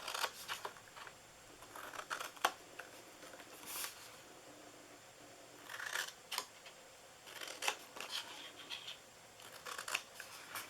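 Scissors snip through a cardboard box while a handmade gift basket is being crafted, with faint, scattered close cuts and rustles at irregular intervals against a quiet background.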